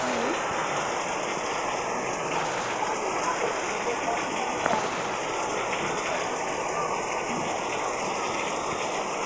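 Heavy rain falls in a steady, loud, continuous wash of noise, close by, lasting throughout with only a brief faint knock partway through.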